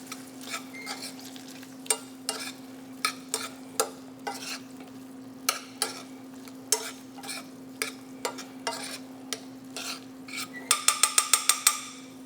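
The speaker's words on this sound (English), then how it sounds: "we will simply just stir around until it makes its own sauce together with the butter" A utensil stirs lobster meat with mayonnaise and butter for a lobster roll, making rhythmic, close clicks and scrapes against the bowl over a low steady hum, ending in a quick burst of rattling taps.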